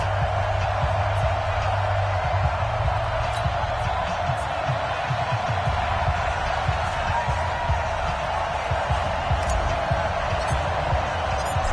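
A stadium crowd at an NFL football video game match between the Denver Broncos and the Detroit Lions roars steadily, a broad sustained wash of cheering with a commentator's voice faintly under it.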